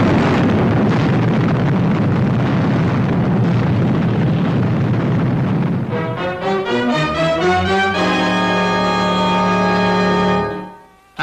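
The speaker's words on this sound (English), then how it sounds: "That's the 7th explosion, Commander Zero." A loud, sustained roaring explosion effect from the Fireball XL5 science-fiction TV series, a dense rumbling blast lasting several seconds that gives way to ringing tonal music before cutting off abruptly.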